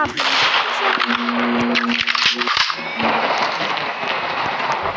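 Rapid bursts of machine gun fire in the video game Area 51 crackle over dense game noise, loud and continuous, with brief pauses between volleys.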